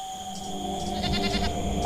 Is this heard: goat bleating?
yes